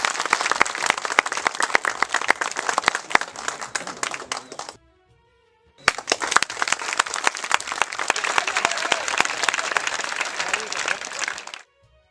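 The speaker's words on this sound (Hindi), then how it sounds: "जोरदार तालियां।" Loud, dense applause from a crowd at an honoring ceremony, breaking off briefly midway, then swelling again and continuing steadily before stopping abruptly.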